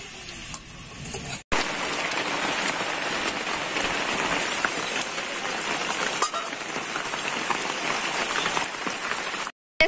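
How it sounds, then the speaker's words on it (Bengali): Heavy rain pours down in a dense, steady hiss close by, broken by two short cuts in the sound, with no talk. "বৃষ্টিতে বেশ ভালোই নামিয়েছে"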